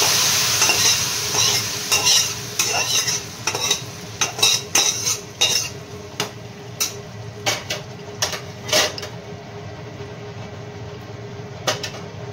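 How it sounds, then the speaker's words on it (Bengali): Spice tempering poured into a pot of khichuri sizzles and crackles while a spoon stirs, with sharp clinks of utensil against the pot over a steady frying hiss, loud and close, with no voices. "এই ফোড়নটা খিচুড়িতে দিয়ে দিলাম"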